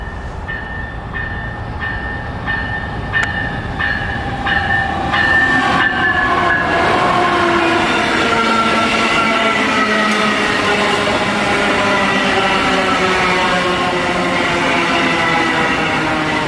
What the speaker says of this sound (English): VIA Corridor train number 22 headed to Quebec City arrived, with one of VIA's Charger sets.